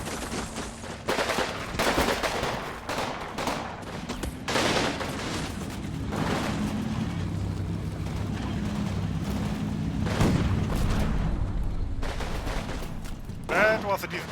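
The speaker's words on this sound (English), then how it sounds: "Oh, my tank is already shooting at the SS," In the WWII strategy game Combat Mission, set in 1945, a tank fires on SS troops, producing repeated booming shots and crackling bursts of gunfire at uneven intervals amid continuous battle rumble, with a voice talking over parts of it.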